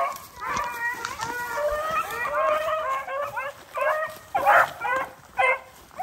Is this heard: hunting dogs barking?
yes